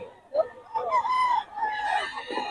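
A young rooster, a stag at a rooster sale, crows once clearly and nearby, a drawn-out strained call lasting a couple of seconds with no talk over it.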